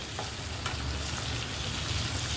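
Stuffed brinjal (whole eggplants with green chili masala) frying in a pan, a steady close sizzle and crackle of hot oil with a faint scrape as the pieces are turned, no voices.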